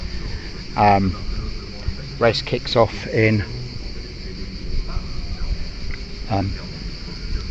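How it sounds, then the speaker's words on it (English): A constant high drone of massed cicadas at the Paul Ricard circuit, Le Castellet, fills the background while someone speaks in brief phrases over it. "So the noise you can hear is there are probably 56 billion cicadas"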